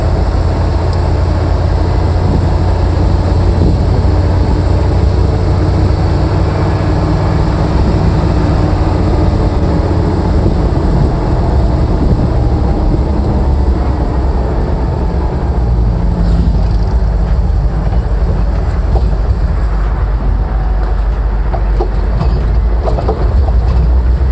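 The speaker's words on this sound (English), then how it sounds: "We're going to go to the rocks right now, and I'm going to show you that the transfer case shifts as it should." An AM General Humvee drives off-road toward a rock pit with a loud, continuous engine and drivetrain rumble that holds steady throughout, with no voices.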